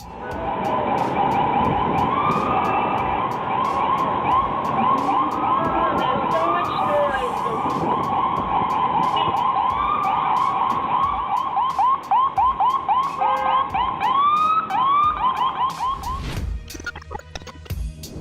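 Ambulance siren on a narrow road in Japan, a loud close wailing and yelping that sweeps continuously for a long stretch before cutting off, with road noise underneath.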